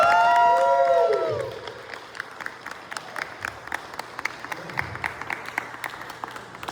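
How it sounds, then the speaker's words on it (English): At a Chelsea, Massachusetts community rally, a tone or feedback sweep fades into scattered, sparse claps from a small crowd outdoors, individual hand claps popping irregularly with low background murmur. "Can we give them a round of applause, please?"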